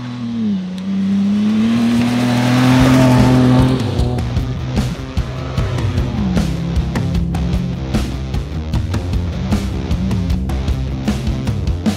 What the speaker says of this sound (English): All right, we're going to do a hot lap in the Bronco Raptor.